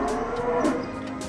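Cattle on a farm low repeatedly over a bit more than a second, several moos overlapping at moderate loudness, with a herd of cows and a couple of bulls close by and no talk.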